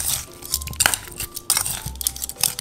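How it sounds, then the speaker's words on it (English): A Korean side dish is tossed with sesame seeds in a bowl, giving scattered clinks, crinkly rustles and soft crunchy scrapes in an irregular rhythm, close and moderately loud with no talking. "I'm gonna mix this all together"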